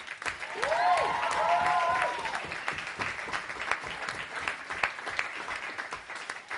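Audience at a Sheffield vs Leeds poetry slam applauding the poets after the first round: dense, sustained clapping from a crowd, loudest at the start, with a brief whistle or whoop early on, tapering slightly but continuing throughout.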